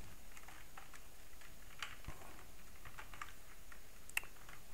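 A computer keyboard clatters as JavaScript code is typed, with quick irregular keystrokes and short pauses, close and moderately quiet, with no talking.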